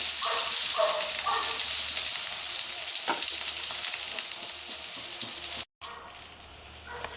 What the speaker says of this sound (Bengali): আমি সুন্দর করে লাল লাল করে বেগুনটা ভেজে নিয়েছি